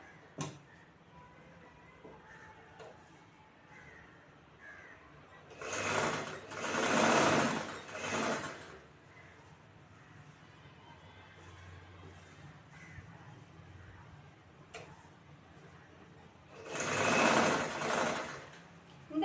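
A sewing machine stitches the neckline fabric of a blouse in two short bursts of rapid whirring, close and fairly loud, separated by a long quiet stretch while the fabric is turned.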